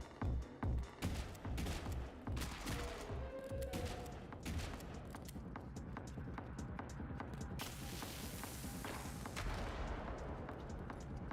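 Several explosions from bombs in a video game, sharp booming bursts clustered early, then followed by a dense, sustained crackle of rapid blasts and gunfire-like rumble throughout.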